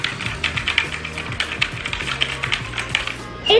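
Keys on a Redragon Kumara RGB gaming keyboard are pressed up close in quick, uneven bursts of loud clicky clacks, with a brief louder knock at the end.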